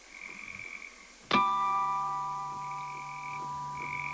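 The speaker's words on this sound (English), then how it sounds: "I can solo it up and you'll hear just the bullfrogs" Bullfrogs croak in a chorus soloed out of a recording session mix, with steady low calls under a bright sustained ringing tone that enters partway through and slowly fades.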